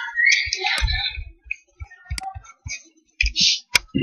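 Typing a verification code on a computer keyboard: a sparse, uneven run of close, crisp key clicks with short pauses between presses, quiet and alone.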